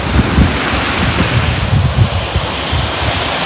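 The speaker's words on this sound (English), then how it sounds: "Swell is crazy." Rough sea swell at Sheringham beach in North Norfolk, a steady loud roar of surf with irregular low thuds of breaking waves, heavy wind buffeting the microphone throughout, no voices.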